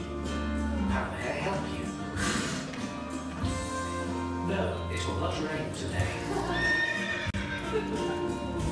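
A horse neighs loudly as a comedy sketch sound effect, a long whinny over hoof clip-clops, with talk running alongside.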